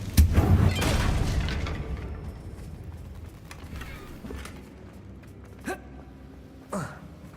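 A Confringo explosion spell cast in Hogwarts Legacy: a loud blast with a rumbling tail fading over several seconds, followed by quieter ambient sounds and a few faint short chirps.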